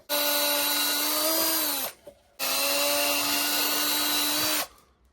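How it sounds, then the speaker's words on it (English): A power drill with a small bit whirs steadily in two long bursts, loud and close, with a brief pause between runs. "Smaller drill bit. Just above the hole."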